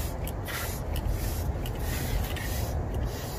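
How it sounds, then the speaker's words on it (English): Dye spritzed from a spray bottle onto a T-shirt for tie-dye, a steady, close hissing spray lasting the whole stretch with soft rubbing underneath and no voices. "just spray it all over your shirt"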